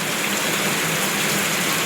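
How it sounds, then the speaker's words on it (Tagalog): Heavy rain pouring down hard and getting stronger, a dense, steady roar of water hitting surfaces, loud and unbroken throughout. "Mas lalong lumakas pa po yung ulan mga kapiks."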